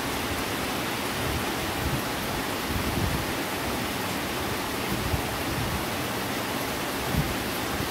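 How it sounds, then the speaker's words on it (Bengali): Steady rain falls outdoors among rural trees, a constant, even hiss of moderate loudness with no pauses, voices or other distinct sounds. "বৃষ্টি হয়েই যাচ্ছে, থামার কোনো লক্ষণ নেই।"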